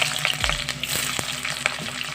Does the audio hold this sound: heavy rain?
no